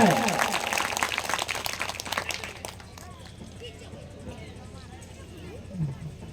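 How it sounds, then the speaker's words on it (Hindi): Crowd applause greets a guest being garlanded at a Bhagavat Katha gathering, loud clapping at first that fades into a softer murmur with scattered voices and background noise. "जोरदार तालियों से स्वागत किया जाए।"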